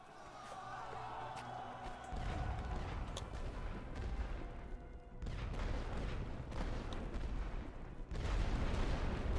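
Artillery rumbles and booms in a World War I trench battle in The Great War: Western Front, with dull, overlapping low blasts and a continuous roar of distant gunfire.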